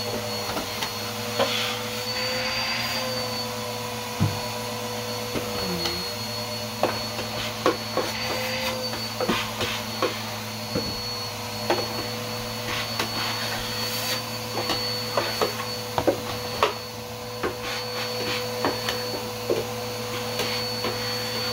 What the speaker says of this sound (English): I'm cleaning and vacuuming this big drawer